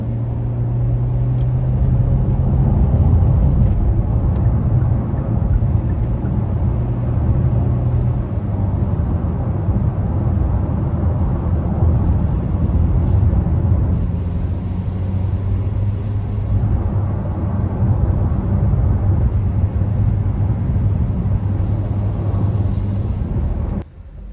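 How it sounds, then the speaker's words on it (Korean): Kia All New K3 cruising at high speed on a road, a loud, steady low-pitched rumble of engine and road noise with a droning hum, continuous throughout with no talking. "보신 것처럼 소음이나 진동이 꽤 심한 편이죠"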